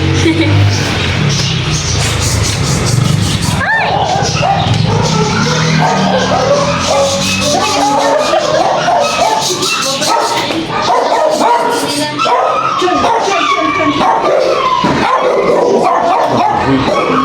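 Several dogs bark and yip in a busy, noisy dental clinic, with shuffling and scattered voices mixed in throughout.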